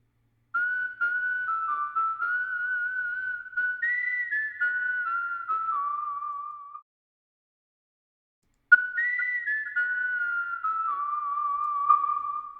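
A realistic synthesized whistling melody, programmed in Logic Pro X for an electro swing track, plays clean and alone as two gliding, sliding phrases separated by a short pause.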